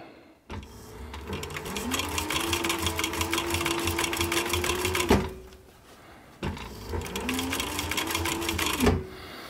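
A sewing machine stitching the seam of a short brim cap, running in two steady whirring bursts of rapid needle clatter with a rising motor tone, each ending abruptly, close and alone.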